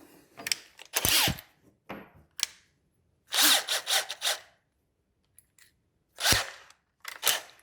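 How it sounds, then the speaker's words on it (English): A handheld drill pre-drills holes in short bursts separated by pauses, close and fairly loud, with brief clicks between runs. "Pre-drilling."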